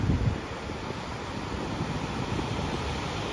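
Steady wind and surf at Shrivardhan Beach form a continuous broadband wash with rough gusty buffeting on the microphone, moderately loud and unbroken, with no voices.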